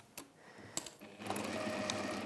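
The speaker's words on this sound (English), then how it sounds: "Let's just sew that down." A sewing machine stitching fabric starts after a few light clicks and taps, settling into a steady close whirring run for the last second, no voices.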